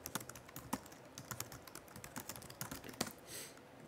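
Computer keyboard being typed on to enter a server address, a quick irregular run of light, close key clicks, faint and without talk.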